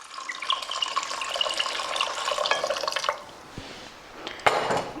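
Water pours in a bright, splashing stream into a pressure cooker of aloo matar for about three seconds, then trickles and drips stop, followed by a light metallic clink.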